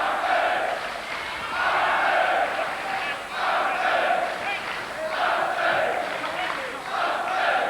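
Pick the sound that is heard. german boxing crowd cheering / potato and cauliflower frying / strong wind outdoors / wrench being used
german boxing crowd cheering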